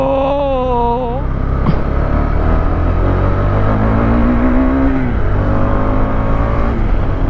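A car engine drones and strains as it climbs a winding mountain road on the way to Manali, steady and close with pitch rising and falling through gear changes; no talk.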